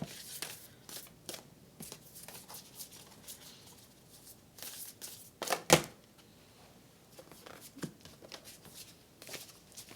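Tarot cards being shuffled by hand, with soft irregular riffling and tapping bursts and one sharp snap midway, fairly quiet and close with no talking.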